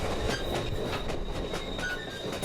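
A train running on an American West railway, wheels clattering rhythmically on the rails with a faint high squeal, loud and close, with no voices.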